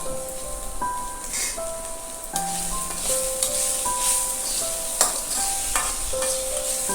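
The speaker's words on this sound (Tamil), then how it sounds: "அப்புறமா முருங்கைக்கீரை போட்டு வணக்கிட்டு கடைசியாக தேங்காய் எண்ணெய் ஊற்றி இறக்கலாம்." Drumstick tree leaves sautéing in a hot pan, a steady close sizzle with a spoon stirring and scraping, while soft tonal background music plays.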